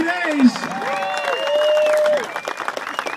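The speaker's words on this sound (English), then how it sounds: "I want you to give a big round of applause for our volunteers" A crowd at an outdoor Mustang car show at the Queen Mary applauds the event volunteers; steady clapping sits under loud, drawn-out cheering and whooping voices that swell and then break off.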